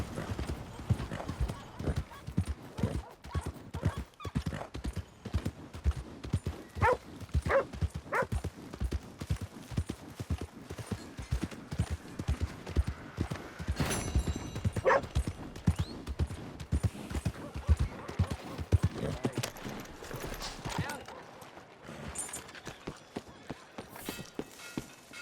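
Horse hooves clip-clop steadily as a rider travels in Red Dead Redemption 2, a continuous galloping rhythm of hoofbeats with occasional snorts and faint game background sounds.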